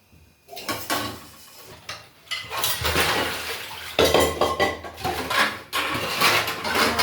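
A kadai frying pan is set down among other pots in a home kitchen, giving a run of close metallic clanks and scrapes with cutlery rattling, several distinct knocks over a few seconds, with no talking.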